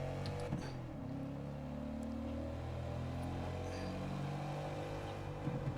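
Ford Mustang engine in the Forza Motorsport racing game, a steady droning hum of the car motor holding a fairly even pitch, continuous and moderately loud throughout with no talking over it.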